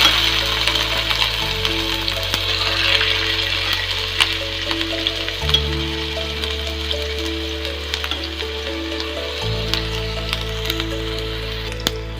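Onion paste hitting hot mustard oil in a pan, a steady broadband sizzle and crackle running the whole time, loud and close, with soft background music tones underneath and no talking.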